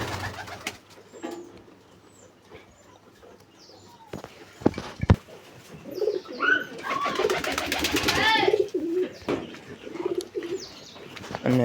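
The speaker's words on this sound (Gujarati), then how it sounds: "અને બધા કબૂતરા અત્યારે બેઠા છે." Pigeons in a loft with nest boxes coo in low, repeated throbbing calls, broken by several sharp bursts of wing flapping close by. Faint chirps sound in between and a voice is briefly heard.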